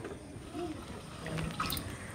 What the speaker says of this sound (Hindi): अब हम ग्वाली को भी धो लेते हैं, एक पानी हमने धो लिया है, दोबारा पानी से अच्छे से धोएंगे।